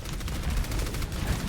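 Grenade launcher fire in the Overwatch video game, a quick cluster of loud thumping shots and booms packed into a brief, busy burst of match noise.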